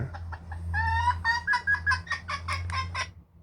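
Chickens cluck close by in a quick run of short, repeated, bright calls, fairly loud, over a steady low hum.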